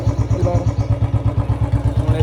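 A Royal Enfield Bullet motorcycle engine idles close by with a fast, even thumping beat and a mechanical clatter, steady throughout and with no one talking.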